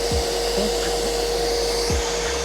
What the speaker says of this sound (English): I've just got the shop vac on that spot on the hole there, and again I'm just letting the shop vac do the work here.